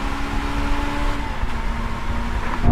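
Drag race between a Toyota 86, a Mazda NC Roadster and a Honda S2000: a steady, droning sports car engine hums at constant pitch under loud wind rumble, heard from inside or close by, swelling slightly at the end.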